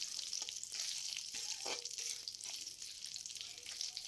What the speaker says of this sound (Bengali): এরপর আমি কড়াইয়ের মধ্যে তেল দিয়ে দিলাম দিয়ে তারপরে আমি কিচমিচ আর কাজুটা হালকা একটু ভেজে নিলাম